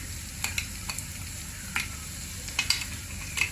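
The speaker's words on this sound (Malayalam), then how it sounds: "ഗ്രീൻ ചില്ലി ഇട്ട് കൊടുക്കാം. അതുപോലെ തന്നെ കറി ലീവ്സും ഇട്ട് കൊടുക്കാം." Green chilies and curry leaves sizzling in hot coconut oil, a soft steady frying hiss broken by scattered sharp crackles and pops, close and fairly quiet with no voices.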